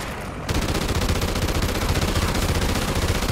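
Automatic gunfire erupts in a shooter video game, a loud, continuous rapid rattle of shots that begins suddenly and holds without pause until the end.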